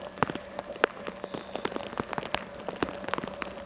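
Rain patters steadily during an autograss race meeting at Cambridge, a dense crackle of drops striking surfaces with sharper close taps scattered throughout, at a moderate level with no talk.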